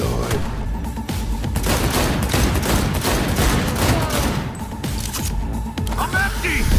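Sustained volleys of rapid gunfire ring out in the video game Cyberpunk 2077, dense overlapping shots and impacts filling the whole stretch, with voices talking underneath the shooting.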